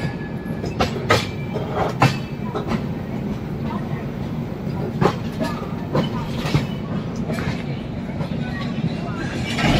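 A train rolls over the Nagpur diamond crossing with a steady rumble and a run of sharp clickety-clack wheel impacts, loud and close for the whole stretch.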